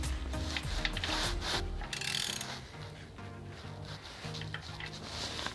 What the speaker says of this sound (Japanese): そしたらボルトをラチェットで締めていきます。